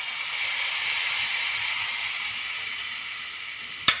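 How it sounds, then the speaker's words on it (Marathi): A hot tempering of crackled mustard seeds, cumin, asafoetida and curry leaves hisses steadily on mango saar, a continuous close sizzle that slowly fades, ended by a single sharp clink. "मोहरी तडतडली, जिरे, हिंगपूड, कढीपत्ता, गॅस बंद करूया आणि आता ही फोडणी सारावरती"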